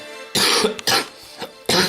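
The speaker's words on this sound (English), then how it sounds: "got me coughing" Three harsh coughs in quick succession, close and loud, with short pauses between them.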